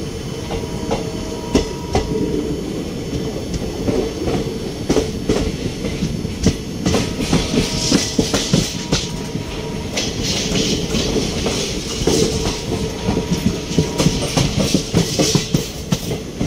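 The Ranakpur Express, a Bikaner to Dadar train, rolls along with a steady loud rumble and a continuous clickety-clack of wheels over rail joints, with a faint hiss and no talk.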